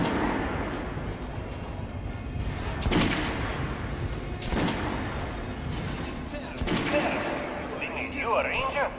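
Gunfire aimed at training dummies on a shooting range in Metro Last Light: several loud, sharp shots come at irregular intervals, each ringing out briefly, with game noise in the background.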